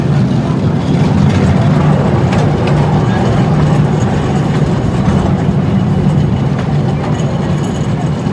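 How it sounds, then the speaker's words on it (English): Empty Storm Runner roller coaster train at Hersheypark rumbling past, a steady heavy low roar with rattling that holds loud and constant throughout. "And there goes the empty train."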